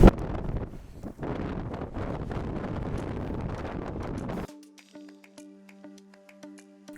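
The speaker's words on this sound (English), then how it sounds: "It is so windy and so choppy today." Loud wind roars against the microphone for several seconds at the Mull of Galloway Lighthouse in southern Scotland, then cuts off abruptly, leaving a quiet steady hum with faint ticks.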